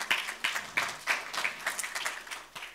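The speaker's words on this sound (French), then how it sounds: "Applaudissez-le." A small audience claps for a speaker at a European ideas pitch event, fairly faint and sparse, with a rhythmic pattern of distinct claps rising and falling unevenly.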